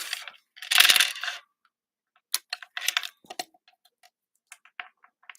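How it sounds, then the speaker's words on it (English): Metal snips cut small craft pieces in half, giving a few sharp, close clicks and snaps spaced irregularly with quiet gaps between them. "I'm just going to take my snips and just snip them"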